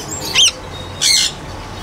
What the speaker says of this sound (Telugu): ఇది వచ్చేసేపటికి రెడ్ కాలర్ లారీ అండి